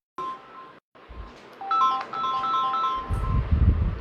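A mobile phone rings during a live class, a short electronic tone followed by a melodic series of ringtone beeps, fairly faint, with some low handling noise toward the end and no talk.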